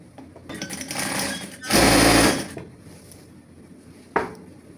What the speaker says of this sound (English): So it's that 1 inch that you are going to use to sew it straight down.